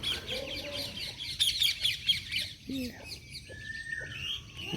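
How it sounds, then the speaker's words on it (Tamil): Parrot chirps and squawky calls scattered through the clip, fairly close, over a steady background hiss with occasional faint voices. "இங்கே பாருங்க எல்லாம் கிளியெல்லாம் பாருங்களா"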